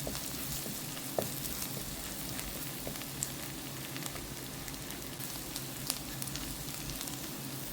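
Kashmiri chilli powder and spices sizzle steadily in a hot pan while being stirred, giving a continuous crackling hiss with occasional sharper pops and scraping, close and fairly quiet, with no talking.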